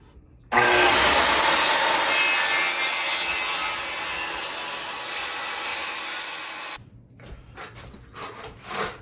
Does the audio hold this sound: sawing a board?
yes